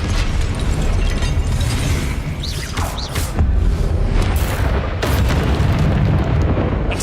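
Confringo spell blasts in Hogwarts Legacy gameplay, loud booming explosions with crackling bursts and whooshes that follow one another over a dense, continuous roar of game effects.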